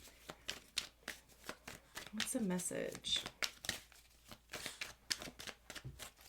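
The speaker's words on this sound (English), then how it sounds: "let's get a couple good shuffles in here" Tarot cards are shuffled by hand in quick riffling bursts, crisp papery flicks and slaps close up, with a person speaking briefly over the shuffling.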